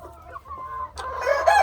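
Chickens and roosters cluck in short close calls that build louder toward the end, on a rainy day in the pen.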